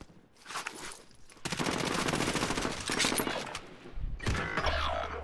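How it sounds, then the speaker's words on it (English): Automatic gunfire from an online match of Call of Duty: Modern Warfare, sustained loud rattling bursts that fill most of the stretch, with a brief pause and then another close burst near the end. "We're getting shot from somewhere else too."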